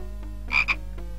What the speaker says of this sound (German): Wieso hat uns der Frosch gefressen?